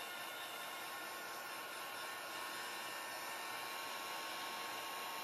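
A heat tool blows over poured ocean-themed resin art, a loud, steady, even whoosh of hot air running without a break and with no voices.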